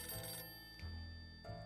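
A telephone ringing in the survival video game 60 Seconds, three repeated electronic ring bursts at even intervals, fairly quiet, with no talking.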